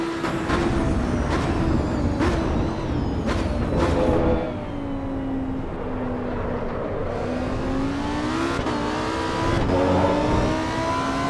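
Lamborghini Huracan STO engine heard from the cabin in Assetto Corsa Evo, revving hard through upshifts with a steady droning pitch that climbs and drops between gears, loud and alone.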